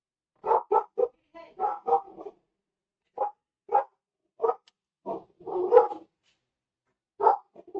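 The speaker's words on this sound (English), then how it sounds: "psycho dog." A dog barks in short, sharp bursts, about a dozen irregularly spaced barks at close range, some doubled or run together, with brief silences between.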